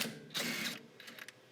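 A ratchet working a nut loose on coilovers being fitted to a 3rd-gen Honda Prelude, a short close burst of quick clicking followed by a few fainter clicks.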